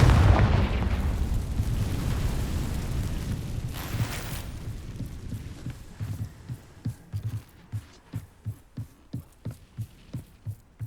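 A Confringo blasting curse from the Hogwarts Legacy video game bursts in a loud, booming explosion that rumbles and decays over several seconds, followed by a steady series of rhythmic thuds like footsteps.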